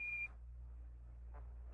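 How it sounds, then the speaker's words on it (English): Apollo lunar module 1201 program alarm during the lunar landing: two short, clean electronic beeps at a steady tone, one at the start and one at the end, over faint radio hiss, with no voice between them. "Roger, 1201 alarm."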